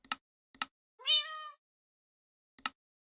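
A single short, clear cat meow in the Minecraft video game, set between sharp, quiet clicks spaced apart in otherwise silent surroundings.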